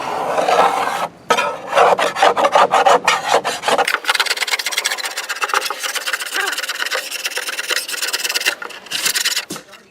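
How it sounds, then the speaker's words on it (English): Steady rasping scrape and sanding of lacquer off a Gretsch guitar body, loud and close, continuous rough strokes for about ten seconds with one brief pause near the start. "there's some final scraping and sanding to do to clean up before we glue the back onto the sides"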